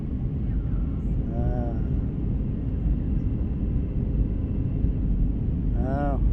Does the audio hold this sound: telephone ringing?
no